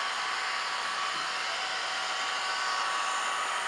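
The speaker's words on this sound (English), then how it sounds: "then we're going to take our heat gun" Heat gun on its low setting warming a vinyl wrap decal on an Arctic Cat ProClimb snowmobile nose, giving a steady, airy blower hiss and whir that runs unbroken and fairly close, with no voices.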